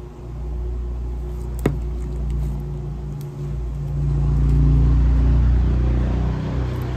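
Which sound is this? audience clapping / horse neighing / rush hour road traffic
rush hour road traffic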